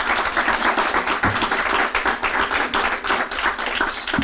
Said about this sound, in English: let's give all of them a round of applause just to kick things off